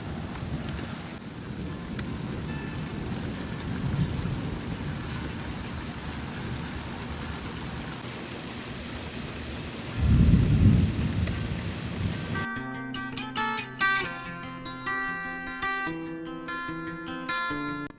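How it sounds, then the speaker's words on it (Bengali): Steady rain falls in a living room's hearing range with a deep rumble of thunder rolling through near the middle; the downpour continues as a broadband wash, and in the final seconds tonal music rises over it. "বাংলাদেশেও বৃষ্টি হচ্ছে আর আমাদের এখানেও কিন্তু বৃষ্টি হচ্ছে বেশ কয়েকদিন যাবত"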